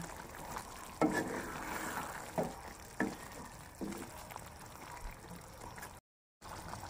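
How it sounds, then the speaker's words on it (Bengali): Spices, capsicum and onion fry in ghee with a soft, steady sizzle, broken by a few light scrapes and clinks as the pan is stirred, with no voices. "এবারে হালকা করে নেড়ে দেব"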